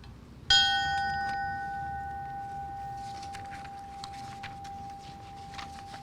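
A single memorial bell is struck once at a fallen firefighter memorial ceremony in Edmonton, Alberta. The clear ringing tone decays slowly over several seconds while faint outdoor crowd noise continues beneath it.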